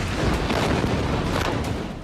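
Heavy bombardment in Gaza rumbles as a continuous roar of booming explosions, dense and loud, with deep low thuds throughout.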